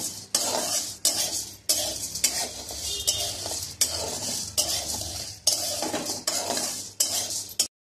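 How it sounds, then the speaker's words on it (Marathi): Sago pearls being dry-roasted in a pan for thalipeeth flour, stirred with a spoon in repeated scraping strokes over a steady faint sizzle, close and fairly loud, with no talking. "आपला साबुदाणा पण भाजत आलेला आहे"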